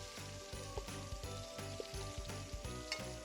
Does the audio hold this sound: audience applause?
no